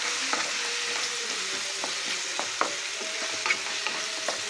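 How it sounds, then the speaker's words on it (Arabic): Onion fries in a pan for stuffed mini flatbreads, producing a continuous soft sizzle broken by scattered utensil clicks and stirring taps, close and with no voices. "نطلعوا على البصله، هاهي بدات تشحر"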